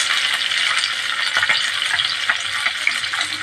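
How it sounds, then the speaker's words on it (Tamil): Sliced large onions sautéing in a hot pan for Tamil-style bitter gourd poriyal, giving a steady, close sizzle and crackle with occasional stirring scrapes and no voices. "இப்போ வெங்காயம் கொஞ்சம் நல்லா வதங்கட்டும்."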